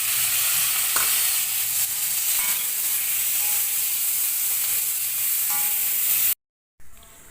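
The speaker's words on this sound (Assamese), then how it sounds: "এতিয়া ইয়াত পিঁয়াজখিনি ফ্ৰাই কৰি ল'ম সেইখিনি তেলতে।" Onions frying in hot oil make a steady, close sizzle with a bright hiss that holds evenly, then cuts out abruptly near the end before a brief return.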